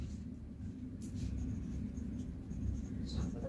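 Pen scratching steadily across a paper worksheet during a math lesson, close and continuous with soft low rumble beneath and no talking.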